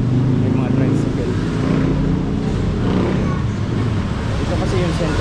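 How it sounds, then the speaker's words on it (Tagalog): Motorized tricycles and other traffic rumble past on a busy city street in Davao's Chinatown, a steady engine drone heard beneath someone talking. "May mga tricycle."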